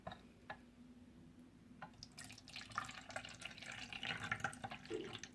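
Water is poured into a toy coffee machine, giving a soft, close trickle and splash that builds after a few faint drips.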